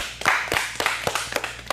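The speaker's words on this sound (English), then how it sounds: "everyone give yourselves one more big round of applause" A handful of people at a teen improv showcase clap briefly and unevenly, a short burst of sharp claps close by.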